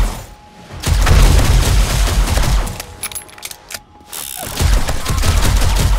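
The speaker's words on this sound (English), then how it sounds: "as soon as the turrets hit the demons, they die so easily" Automated turrets in 7 Days to Die with the Darkness Falls mod open fire on demons in a loud, sustained barrage of booming gunfire, dipping into a brief lull near the middle before the rapid shooting resumes.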